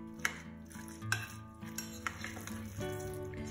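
Minced meat filling with ground paprika and lemon pepper being stirred in a bowl, with a few close clinks and scrapes of a utensil against the dish and soft wet mixing sounds throughout.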